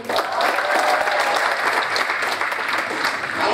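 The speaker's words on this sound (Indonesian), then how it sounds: "Boleh tepuk tangannya lebih baik." Steady, dense audience applause at a theological college graduation ceremony, a continuous close wash of many hands clapping with no pause throughout.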